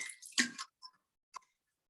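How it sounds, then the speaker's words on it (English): A person takes a quick sip of water from a drink: a soft slurp, then a couple of faint swallowing and clicking sounds, close and quiet. "Let me have a sip of water."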